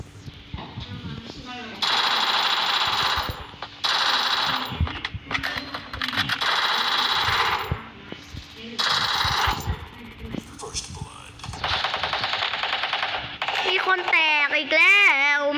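Bursts of rapid automatic gunfire from the Free Fire video game in a 4v4 match come in several sustained volleys with short gaps between them, loud and close, with a voice speaking in between.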